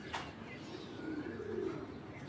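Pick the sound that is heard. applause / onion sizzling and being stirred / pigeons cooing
pigeons cooing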